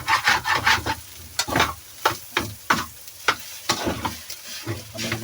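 A ladle stirs and scrapes fried rice in a pan, giving repeated rough scraping strokes in an uneven rhythm over a soft sizzle, close and fairly loud.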